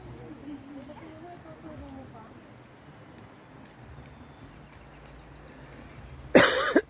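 A single sharp cough bursts out near the end of the clip at a campsite near Chilliwack, British Columbia, loud and close after quiet outdoor ambience with faint talk earlier.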